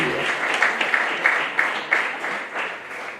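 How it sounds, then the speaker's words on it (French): An audience at a book presentation evening in Gosier applauding to welcome a speaker, a moderate round of clapping with rhythmic accents, fading slightly toward the end. "Je vous demanderai d'accueillir avec applaudissements Monsieur Michel Mado"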